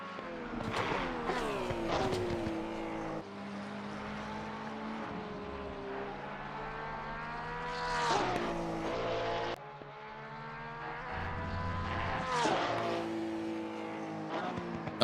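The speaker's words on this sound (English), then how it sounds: "4 litre flat 6. A proper soundtrack here of GT racing." A 4.2-litre flat-six GT race car at Spa howls past at high revs, pitch climbing and dropping through gear changes, loud and close, with other cars blending into a continuous racing roar.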